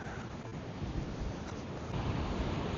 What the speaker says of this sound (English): It is still super windy out here.